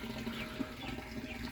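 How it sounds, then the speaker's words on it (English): Water running into a water butt from a hose or tap, a steady close rushing and splashing hiss with a faint low hum beneath, continuous with no speech. "now I'm just filling up the water butt"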